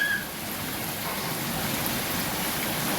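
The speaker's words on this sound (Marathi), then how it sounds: "हा पाऊस" Heavy rain pours in a steady, dense hiss of broadband wash that stays loud and unbroken throughout, with no voices over it.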